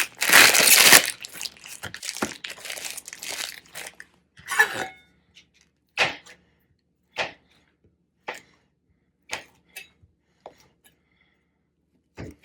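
Plastic bag handled up close for a meat soak: a dense burst of loud crinkling and crushing up front, then short separate rustles every second or so, growing fainter and sparser toward the end.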